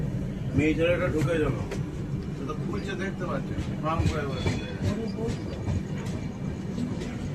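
Shipra Express passenger train running, a continuous rumbling rattle of the carriage heard from inside, with a person speaking over the train noise throughout.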